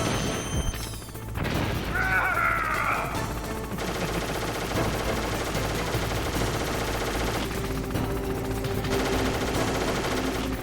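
An enemy fires in the PlayStation game Metal Gear Solid, with loud, dense bursts of automatic gunfire and booming impacts rolling on almost without a break over a constant layer of game sound.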